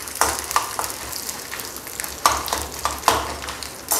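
Dried red chilies, curry leaves and chana dal fry in hot oil while tamarind rice paste (pulikachal) is made, giving a steady crackling sizzle with a few sharper pops and spoon scrapes.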